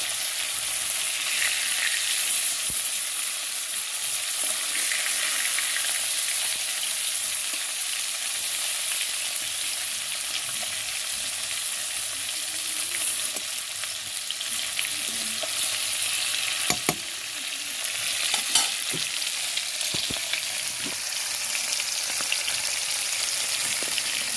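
Pieces of rohu fish fry in hot oil, a steady, dense sizzle with crackling and spitting that runs continuously throughout, with occasional soft clinks of utensils and no talk.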